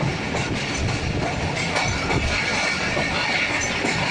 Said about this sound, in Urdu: خالی ٹرین جا رہی ہے، خالی